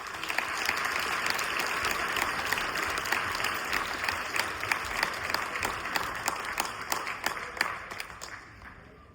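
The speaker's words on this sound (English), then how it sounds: "A round of applause." An audience at a high school equivalency graduation ceremony in Portland, Maine applauds steadily, a dense crowd of clapping hands that holds throughout and tapers slightly at the end.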